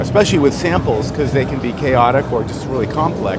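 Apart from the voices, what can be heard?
No everyday noise stands out behind the speech.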